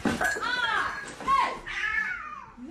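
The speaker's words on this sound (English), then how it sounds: "the cats is scrapping," Two cats fighting, drawn-out yowls and rising, wavering cries close by in a steady snarling squabble, with excited voices mixed in.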